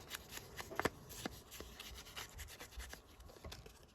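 Decorative paper is torn by hand for a junk journal, giving a few scratchy, rustling rips at close range, with one louder tear near the start and softer handling noises after it.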